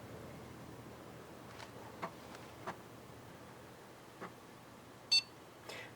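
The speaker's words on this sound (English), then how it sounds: "There's the beep." A short, faint electronic power-on beep from a PC sounds among a few soft ticks and clicks in an otherwise quiet room.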